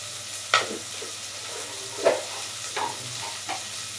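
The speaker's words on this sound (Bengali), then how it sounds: "এই হচ্ছে তেজপাতা দিয়ে দিচ্ছি।" Bay leaves hit hot oil in a pan at home, a soft continuous sizzle broken by a few sharp crackles and stirring scrapes, close and clear with no talking.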